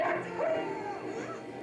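A puppy in an anime film yips and whimpers with high, whiny cries that rise and fall over a steady bed of music and other sound from the scene.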